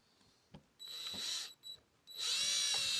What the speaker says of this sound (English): Be very careful when using the screw gun here because you can easily crack your new faceplate